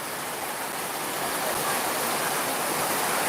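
Heavy rain pours down steadily at night, a dense, continuous hiss filling the whole stretch without a break and growing slightly louder toward the end.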